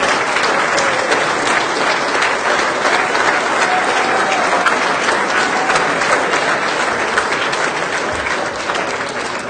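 An audience at the 2007 Rebreather World Party at DEMA applauds an award winner with loud, continuous clapping that holds steady for the whole stretch, dense and close.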